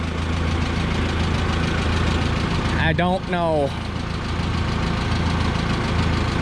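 A small 1966 tractor engine idles steadily after a cylinder head replacement, a loud, close, continuous rumble with a brief voice speaking over it midway.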